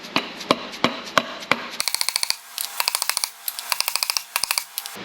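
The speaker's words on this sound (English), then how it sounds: "we'll use a dead blow hammer and walk this in" A dead blow hammer drives a cam timing gear onto a junkyard LS engine in a 92 Firebird. Sharp, close taps come in steady series, slow at first and then in quicker bursts of several strikes.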